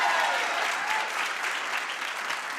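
Studio audience at a cooking show breaking into steady applause, dense and continuous, loudest at the start and gently tapering off without fully stopping.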